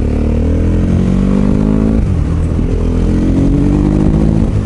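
A motorcycle being ridden, recorded close up on a suction-mounted action camera: a loud engine drone whose pitch climbs, drops sharply as the rider shifts, then climbs again, with wind rushing throughout.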